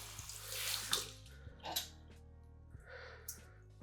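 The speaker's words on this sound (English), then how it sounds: "All the gunk, you can wash that out." Tap water running in a sink to rinse hair and gunk from a hair clipper guard, a faint close wash of flowing water with brief splashes and a low electrical hum beneath.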